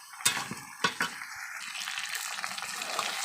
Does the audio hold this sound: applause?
no